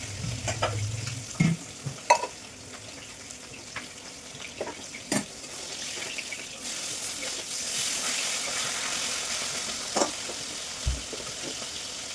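Food fries in a pan with a continuous hiss of oil, broken by scattered scrapes and knocks of a utensil stirring it nearby.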